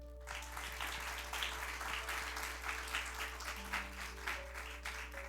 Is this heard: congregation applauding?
yes